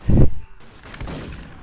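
Video game gunfire, a loud close burst of shots up front followed by a scatter of softer, more distant shots and rumbling.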